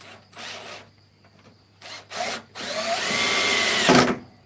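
A power drill drives plasterboard screws into wooden chair framing, sounding first as short close whirring bursts and then as one longer sustained run that rises in strain as the screw bites into the wood.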